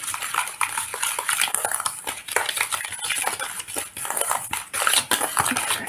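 PVA glue and a mud mixture stirred for a scale model's muddy terrain, a steady run of close scraping and clinking strokes against a container with no talk.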